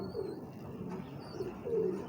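A female pigeon that has flown home coos softly in a couple of low, rounded phrases, somewhat distant under a faint steady background hiss, with no talking.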